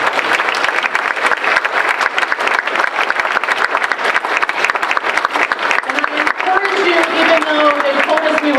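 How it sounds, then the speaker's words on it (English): An audience at a panel discussion claps in a final round of applause, dense and loud for several seconds, with people beginning to talk over it near the end. "So one final round of applause for our partners, our panel, and you, the audience."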